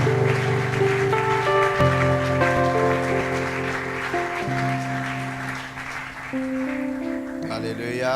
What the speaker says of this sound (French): J'appelle le pasteur Stone Ibanda à prendre la parole sous vos acclamations